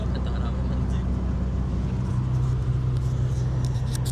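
Škoda Fabia with a 1.9 PD diesel engine warming up, a steady low idling rumble held close and constant throughout, with no speech over it.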